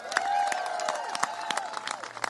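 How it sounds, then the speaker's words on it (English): Audience applause at a Texas Democrats press briefing in Boston: dense, steady clapping fills the hall at moderate volume, mixed with cheering and raised voices throughout. "So give yourselves a big round of applause."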